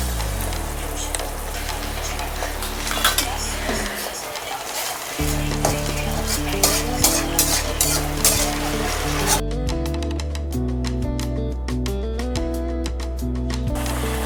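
A spoonful of ginger garlic paste sizzles steadily in a hot pan for a home-style potato bhaji, loud and close, with stirring clatter and scraping over background music.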